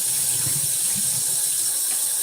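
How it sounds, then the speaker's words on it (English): Cold tap water runs steadily into a kitchen sink, rinsing food that was soaked overnight in vinegar and water, a continuous close hiss and splash with no talk. "rinse it off with some cold water"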